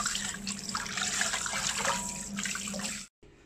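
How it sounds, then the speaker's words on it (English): Tap water running steadily into a pot while needlefish are washed, a close, continuous splashing stream that cuts off abruptly near the end. "just run water, make sure water gets into everywhere, just continuously"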